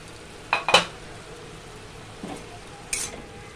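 A metal pot lid clinks and scrapes as it is lifted off a pot of thor (banana stem) cooking on the stove, with a couple of sharp metallic knocks against faint background hiss.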